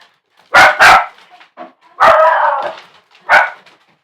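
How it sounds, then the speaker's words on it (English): Dogs bark close by in a few sharp bursts, including a doubled bark, a longer drawn-out one and a final single bark, with quiet pauses between. "They're barking because my father's here."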